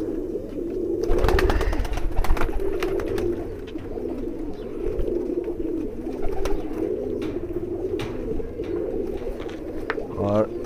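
Lalsara high flyer pigeons coo in soft, repeated rolling calls, a continuous murmur of several birds with sharper clicks and rustles scattered over it.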